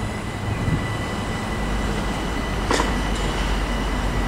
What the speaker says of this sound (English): So they're departing, this is a 1220 Southeastern service to Hastings from London Charing Cross.